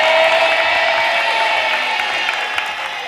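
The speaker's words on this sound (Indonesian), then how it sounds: "Tepuk tangan dong" A dense wash of TV game show studio audience noise, clapping and cheering blended together, loud and sustained, gradually easing off toward the end.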